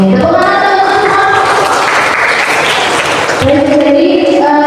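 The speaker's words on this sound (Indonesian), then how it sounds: "Tepuk tangan teman-teman." An audience at a digital marketing seminar applauds in a loud, dense burst of clapping lasting a few seconds. Amplified music or a voice is heard before and after it.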